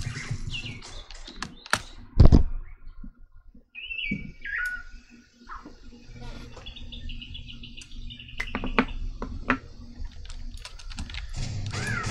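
Scattered bird chirps and tweets from an Unreal Engine 4 fantasy MORPG ambience, with a few separate calls over a quiet background and some soft clicks.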